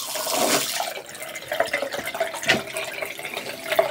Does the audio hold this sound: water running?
yes